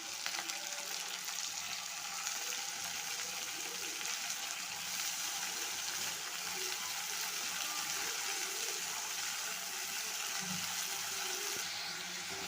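Tomatoes tossed into onions already frying in a pan, producing a continuous moderate sizzle with a soft wet hiss and faint stirring, steady and unbroken with no voices.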